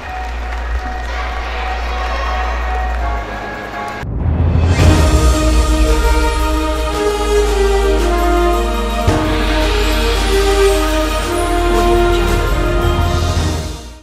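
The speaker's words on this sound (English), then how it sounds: "let's give our generous sponsors a big round of applause" Pageant audience applauding sponsors at an indoor event, with background music playing before a swell of clapping and light cheering that builds at about four seconds and continues strongly to the end.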